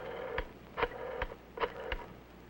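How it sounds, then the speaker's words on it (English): An old push-button telephone being dialed, a code number followed by a phone number, heard as five evenly spaced tone beeps over a steady hum. "Flip the switch button, then dial a code number and the number you want."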